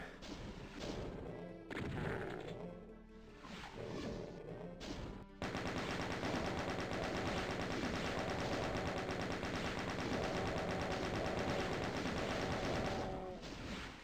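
Doom game gunfire: rapid, continuous shots hammer away for several seconds after a stretch of scattered blasts and crashes, loud and dense, with a brief pause near the end.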